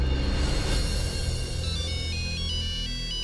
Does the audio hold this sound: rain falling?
no